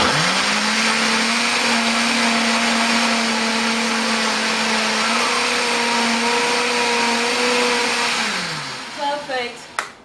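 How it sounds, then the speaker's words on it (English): A small blender whirs steadily at close range for several seconds, blending ingredients into a paste, its motor pitch holding level before it winds down and stops. "I always like using my small blender for things that I want to blend into a paste"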